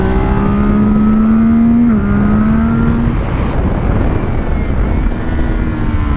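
CFMOTO 675 SR-R supersport motorcycle accelerating through the gears, its engine note climbing loud and close, dipping briefly at a shift, then easing off into steady road and wind noise.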